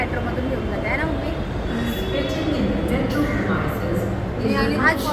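A Mumbai metro train ride with a steady, close rumble of the carriage running throughout, and a voice talking over it with light background chatter.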